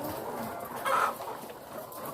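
Egg-laying hens on a Thai farm cluck steadily nearby, with one sharper, louder squawk rising briefly above the constant flock chatter.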